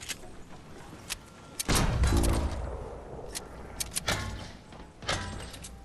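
Gunfire from weapons in the Fortnite video game: several sharp, loud bursts with quieter clicks and mechanical clatter between them, the shots coming in separate clusters.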